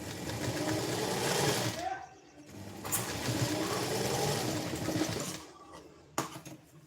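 A sewing machine stitches a sleeve onto a blouse, a loud steady whirring run that stops briefly and restarts, with someone speaking during the pauses.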